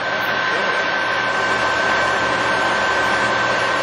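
A Moriseiki 20½ by 60 inch toolroom precision lathe turns at 765 RPM, a loud, steady broadband whir with a constant high tone, unbroken for the whole stretch.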